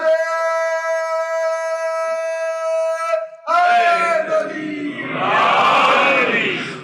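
Religious slogan chanting at a Jashn-e-Wiladat gathering for Imam Mohammad Taqi: one strong voice holds a long, ringing call, followed by a loud, roaring crowd response that swells toward the end.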